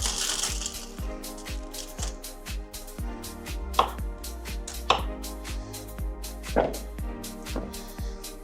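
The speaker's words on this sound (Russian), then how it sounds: "большие кусочки тыквы мы разрежем поменьше" A knife cuts large chunks of pumpkin into smaller pieces on a board, giving close, steady chopping thuds about once a second, with a few sharper, louder strikes.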